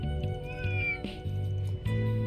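A cat meows repeatedly in The Legend of Heroes: Trails Through Daybreak, several clear, close mews in quick succession over a steady game music background.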